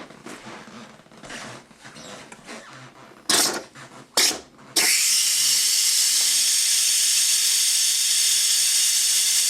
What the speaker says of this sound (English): Going to let the pressure out.